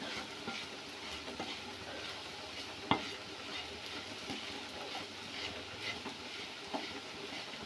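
Soya chunks frying in coconut oil, a steady sizzle with soft stirring scrapes and one sharp clink of the utensil, fairly quiet overall.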